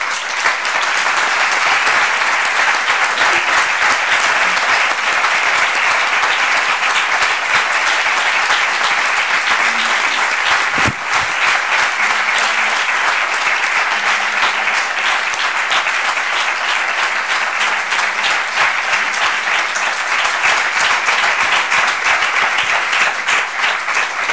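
A large audience gives sustained applause after a speech in Spanish, dense and steady clapping that stays loud and even throughout without a break.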